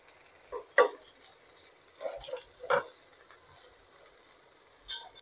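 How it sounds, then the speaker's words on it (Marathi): Bombay duck fish coated in green masala frying in a pan, a quiet steady sizzle broken by a few short scraping stirs and clinks from turning the fish, no talk. "हिरव्या वाटणामधले बोंबील सुद्धा आपण फ्राय करून घेऊया"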